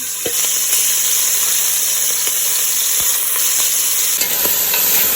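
Steady crackling sizzle of chicken feet browning in a pot on a stove at medium heat, with occasional scrapes and knocks as it is stirred; no talking.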